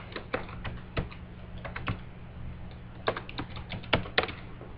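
Laptop computer keyboard tapped to enter a wireless network name, a quick irregular run of light close clicks over faint background hum, with no voices.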